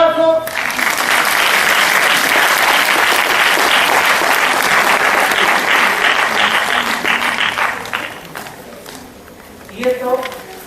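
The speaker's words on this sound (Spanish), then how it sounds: "Vamos a darles un aplauso." Sustained audience applause at a transpersonal psychotherapy lecture in a hospital, loud and dense from the start, fading out near the end, with a voice briefly rising over it.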